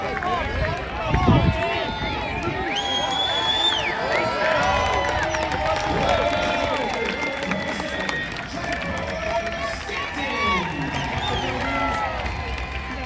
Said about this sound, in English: let's just take a listen to the reaction from the crowd here